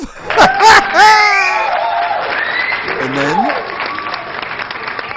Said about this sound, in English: we'll give that one a round of applause